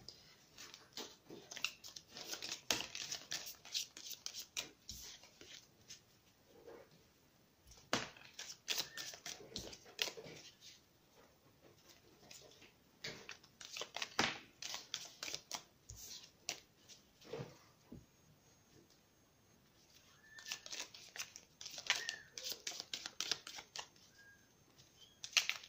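A deck of oracle cards being shuffled, with repeated bursts of riffling and flicking cards separated by short pauses, close and fairly quiet, with no talking.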